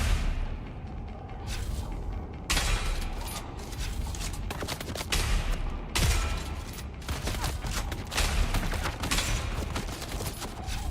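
Gunfire in a first-person shooter video game on a live stream: repeated loud bursts and single shots crackle over a dense, busy game soundscape, with sharp cracks scattered across the whole stretch.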